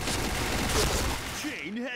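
Rapid automatic fire from an HK rifle in the Point Blank shooter game crackles in a dense continuous burst, then cuts off as a voice talks briefly at the end.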